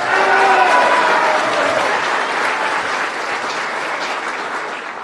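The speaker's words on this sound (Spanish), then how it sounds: "quiero pedir también un fuerte aplauso para nuestro amigo Álvaro Ruiz, que ha sido el gestor de esta ley" Sustained applause from an audience at a ceremony where a law recognizing the Vendimia Chapaca festival is presented, loud and dense at first and tapering slightly over about five seconds, with no voices over it.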